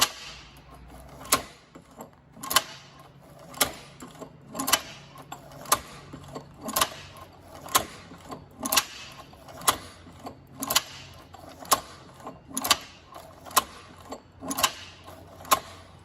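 A Cowboy Outlaw sewing machine stitching slowly through thick material, with a steady rhythm of sharp metallic clanks roughly every second over a low mechanical hum, close and alone.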